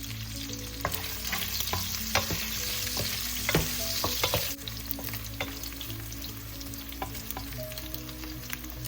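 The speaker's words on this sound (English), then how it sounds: "we're gonna saute our aromatics and other ingredients" Onions and garlic sizzle steadily as they sauté in oil in a pan for a noodle soup, with a continuous frying hiss and occasional clicks of a utensil stirring, close by and with no talking.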